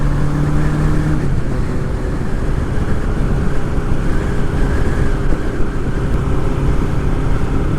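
A Nighthawk motorcycle cruises on a highway, its engine a steady low drone buried in constant heavy wind roar, with a slight pitch shift in the first second and no voices.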